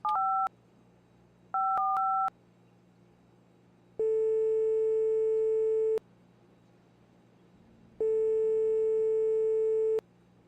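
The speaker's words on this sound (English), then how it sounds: "the phone calls in this take forever, and you have to listen through the whole thing" In a car-building video game, a phone call plays out as two short bursts of dialing tones followed by two long, steady ringing tones separated by silence.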